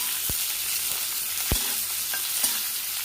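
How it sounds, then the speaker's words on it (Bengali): Garlic frying in a pan for veg Manchurian, a steady broadband sizzle with a few sharp knocks of a spoon or spatula stirring, close and continuous, no voices. "এইখানে রসুন টসুনগুলো ভাজা হচ্ছে"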